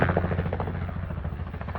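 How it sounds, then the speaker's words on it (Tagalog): Loud, continuous rotor chop and engine roar of a helicopter close by, spraying fertilizer over corn fields in Canada, with a fast rhythmic thumping throughout. "helicopter, oh."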